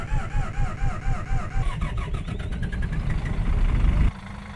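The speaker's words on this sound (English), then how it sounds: "So to start this bus, you have to hold down the starter button to get it to go." A Volvo engine in a Busscar Urbanuss low-floor articulated bus in OMSI 2 cranks under the held starter and catches, then settles into a steady loud idle that drops to a lower, quieter rumble near the end. No one speaks.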